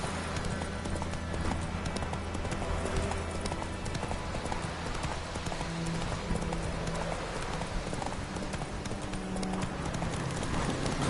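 Horse hooves clip-clop steadily at a gallop in The Witcher 3 video game, a continuous rhythmic beat close and prominent over the game's ambient backdrop, with an occasional faint whinny.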